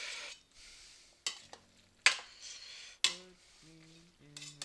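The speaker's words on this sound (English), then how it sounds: "We'll kind of stir that together" Chicken and broccoli fettuccine alfredo stirred in a pan, with sharp utensil clinks and scrapes against the pan at irregular intervals, a faint sizzle underneath and a few ringing metallic tones.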